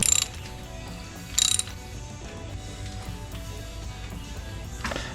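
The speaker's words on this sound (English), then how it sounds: "Now it's screwing on." A new spark plug being threaded into a dirt bike engine by hand, giving soft clicking and ratcheting mechanical sounds, with a couple of brief louder metallic bursts, close and fairly quiet.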